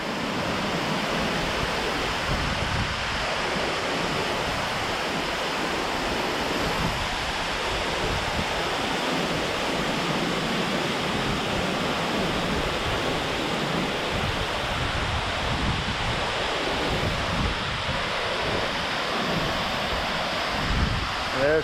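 Brook Falls, a waterfall on the Olympic Peninsula, roars as a constant dense rush of falling water, loud and unbroken throughout, with gusts of wind buffeting the microphone at times.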